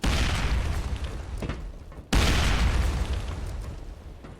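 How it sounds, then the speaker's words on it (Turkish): A bomb explosion in a video game, two heavy booming blasts a couple of seconds apart, loud and close, each followed by a rumbling decay. "İşte bombanın geldiği belli olmuyor ya."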